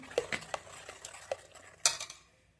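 Spoon stirring raita made from lassi in a bowl, a few light clinks and scrapes spaced irregularly, soft and close with no talking.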